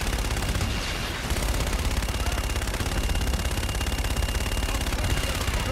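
A fire support strike pounds a marked target in Call of Duty: Infinite Warfare, with continuous loud rapid gunfire and heavy impacts rolling together in a dense, unbroken barrage.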